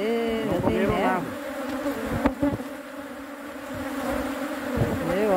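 Weak honeybee swarm inside a hive, a steady droning buzz of many bees with shifting tones, loud and close throughout.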